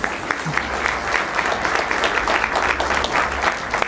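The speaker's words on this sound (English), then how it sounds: "So everyone, please give Kellogg a round of applause." A brief round of steady applause from the audience at a county board meeting, even, moderately loud clapping over a low hum.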